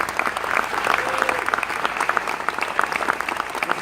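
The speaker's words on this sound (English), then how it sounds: "give the governor a round of applause" Loud, sustained applause from an event audience for the governor of New York State at a Westbury village grant announcement, many hands clapping in a dense, continuous roar close by.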